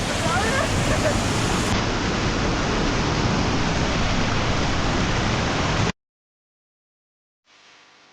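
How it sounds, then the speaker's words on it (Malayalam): A powerful stream at Kalanki Hills pours in a loud, continuous rush for several seconds, then cuts off abruptly to silence before a faint low sound returns. "എന്നാ ഫോഴ്സാ വെള്ളത്തിന്"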